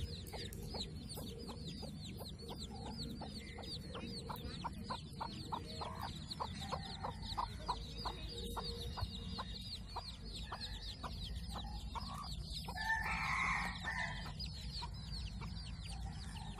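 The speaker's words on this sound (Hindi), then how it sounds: "ये देखिए मुर्गियों के बच्चे भी घुस गए हैं।" A mother hen clucks repeatedly with her chicks peeping around her in a village vegetable garden, soft rhythmic calls over a low outdoor background.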